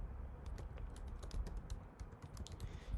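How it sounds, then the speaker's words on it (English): Keys clatter on a computer keyboard in quick, irregular bursts of close, crisp taps, typing steadily alone at low volume. "Here you'll type in all the recipients that will be used over and over again."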